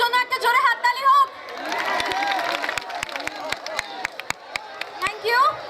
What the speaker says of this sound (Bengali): নিজেদের জন্য একটা জোরে হাততালি হোক